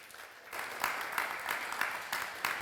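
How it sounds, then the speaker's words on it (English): A crowd at a conference panel discussion applauds steadily, a dense patter of clapping that starts softly and holds at a moderate level. "Round of applause for Vít."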